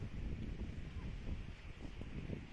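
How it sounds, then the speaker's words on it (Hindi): Strong wind blowing at a nature safari set among trees and hills, a loud buffeting roar against the microphone with gusty swells, heard continuously up close. "बहुत ही तेज़ हवाएं चल रही है।"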